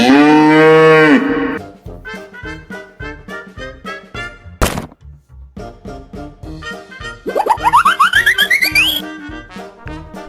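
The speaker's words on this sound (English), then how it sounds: "I make a moo sound." A cartoon cow's loud, drawn-out moo opens the clip, followed by bouncy thumping cartoon music with a sharp hit in the middle and a rising whistle-like flourish near the end, with no speech.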